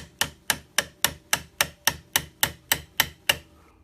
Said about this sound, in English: I'm gonna use my nylon hammer, start to tap it on.